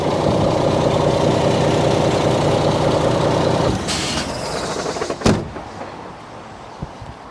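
A Foden truck with a Cummins engine idles on a cold morning, a loud steady diesel rumble close by that cuts out after several seconds, followed by a sharp hiss of air and a door thump.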